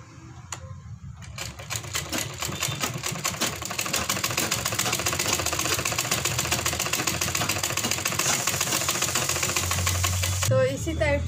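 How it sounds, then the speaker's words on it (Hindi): A sewing machine runs steadily as it stitches piping around a neckline design, a rapid continuous chatter that lasts most of the stretch, with a voice speaking over it near the end. "तो इसी टाइप से पूरे पे सिलाई लगाना है।"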